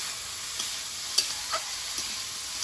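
Bitter gourd with onion fries with a steady hiss in a pan, punctuated by a few soft stirring scrapes and clicks, close and moderately loud.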